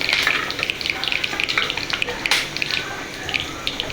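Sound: mustard seeds, cumin and whole spices frying in oil

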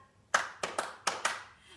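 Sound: people clapping hands along to a song

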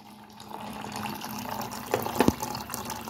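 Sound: water filling a container

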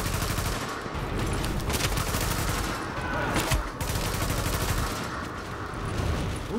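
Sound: gunfire in the video game The Division

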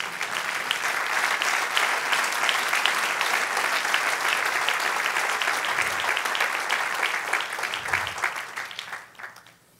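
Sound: applause in church congregation

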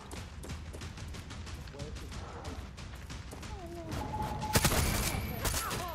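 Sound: gunfire from soldiers in the video game Far Cry 6

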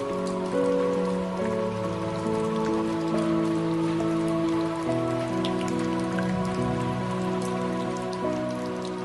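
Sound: rain falling

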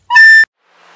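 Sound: recorder playing a lower note

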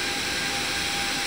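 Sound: Boeing 737-800 jet engine starting up in X-Plane 12 video game

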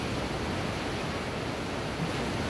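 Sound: rough ocean waves crashing on rocks

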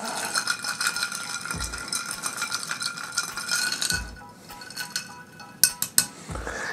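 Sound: spoon stirring a keto old fashioned drink in a glass

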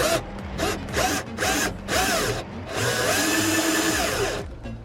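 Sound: power drill boring a 16 mm hole for a switch

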